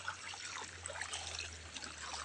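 Hot spring water in Bacolod, Sorsogon City trickles and burbles softly and continuously, faint and close, with a low steady hum beneath.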